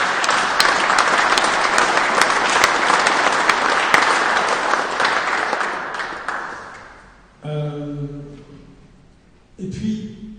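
Sustained audience applause fills the first seven seconds of a public prize draw in Sens, loud and dense with sharp individual claps, then fades out; a voice then speaks briefly, twice.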